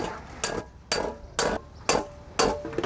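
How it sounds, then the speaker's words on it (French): Hammer blows strike a metal sheet held over a stake during raising, six sharp, evenly spaced ringing impacts about half a second apart, close and alone with no talk. "ma première rétreinte qui consiste à coucher le flanc sur le tas avec un marteau"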